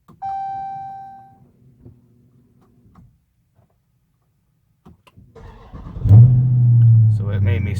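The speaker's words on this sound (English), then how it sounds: "let's make sure that I can still start the car" A 2015-or-later Dodge Charger with a check engine light sounds a chime and a few clicks, then after a pause the starter cranks and the engine catches and roars into a loud, close idle.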